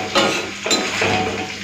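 New potatoes are stirred in a pan of hot frying oil, giving a close, steady sizzle with a few scraping strokes of the utensil across the pan.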